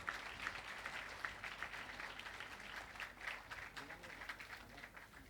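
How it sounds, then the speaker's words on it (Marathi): A school gathering's audience applauds a pre-primary teacher for her rangoli at an annual function, a dense, steady patter of many hands clapping for several seconds at moderate distance. "एकदा जोरदार टाळ्या सर्वजण वाजवूयात"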